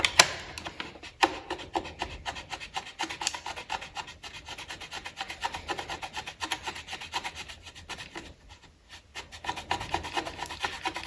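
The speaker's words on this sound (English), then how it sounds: "just try and clean it up a little bit with your knife or some sandpaper" A knife scrapes and trims a plastic part of a Honda CB500X rack, making a continuous rapid rasping close up with quick repeated strokes and a brief pause near the end.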